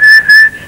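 People whistling a sustained, steady high tone in two close bursts, loud and near, with no other sound.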